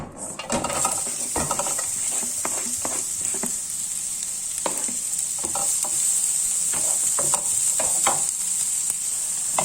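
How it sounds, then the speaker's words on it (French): Onions fry in olive oil in a pan over the heat, a steady bright sizzle with repeated clacks and scrapes of a utensil stirring, close and fairly loud, with no one talking. "Là, j'ai mis un filet d'huile d'olive dans une poêle. Je vais allumer sur le feu. Je mets les oignons."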